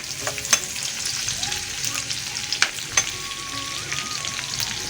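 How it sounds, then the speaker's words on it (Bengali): Chopped garlic and green chilies fry in hot oil, a steady close sizzle with occasional sharp crackles and stirring clicks throughout. "রসুন কুচি, কাঁচামরিচ এগুলো আগে বেজে নেবেন ভালো করে"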